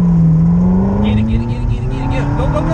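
A Ferrari F430 engine accelerates hard, its note climbing steadily in pitch as a loud, close roar fills the cabin while a voice speaks over it.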